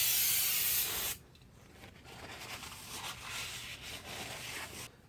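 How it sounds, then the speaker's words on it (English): Brake cleaner sprayed onto a car flywheel during a clutch install on a Mazda MX-3, a loud, close aerosol hiss lasting about a second, followed by softer wiping and rubbing sounds. "with brake cleaner."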